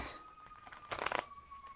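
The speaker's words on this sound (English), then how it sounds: "Let's shuffle here. I know this is a thick deck." A thick tarot card deck is shuffled once, a short crisp papery riffle burst in the middle of an otherwise quiet room.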